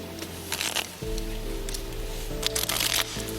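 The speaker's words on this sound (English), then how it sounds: "Now, just give him a riffle shuffle." A quick riffle shuffle of cards, a brief fluttering burst, then a second crisp riffle over steady low hum.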